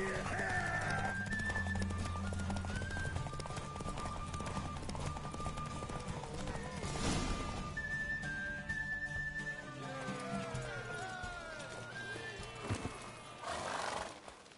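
A horse in The Witcher 3 during a race gallops with steady clip-clop hoofbeats and neighs loudly a few times, with game music and ambience underneath.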